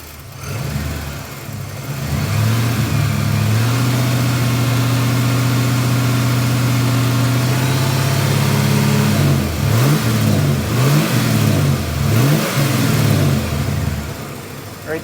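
Car engine running during a fuel pressure test with a Maddox MD61 gauge, fuel pressure reading low: a steady idle hum for several seconds, then a string of short rev-ups rising and falling, loud and close.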